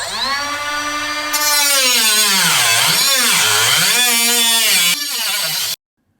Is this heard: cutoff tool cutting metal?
yes